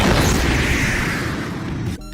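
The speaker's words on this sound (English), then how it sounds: "when it makes contact with the ground, it makes that huge explosion" A loud, booming crash of an explosion on impact, a dense burst that rumbles and fades over about two seconds before cutting off.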